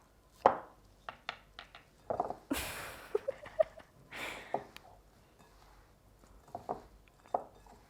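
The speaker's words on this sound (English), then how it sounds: "If you've got clean fingers, you can crumble it together with your hands." Vegan apple crumble topping of flour rubbed together by hand, giving soft scattered rustles and light patting taps at a close, quiet level with gaps between them.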